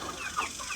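Young chickens of Polish, Buttercup and Cochin breeds clucking in a backyard flock, a few short soft clucks and chirps close by over a steady background hiss.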